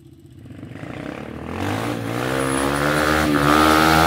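A motorcycle engine revving up steadily in first gear while climbing a hill, rising in pitch and loudness throughout, close and alone with no talking.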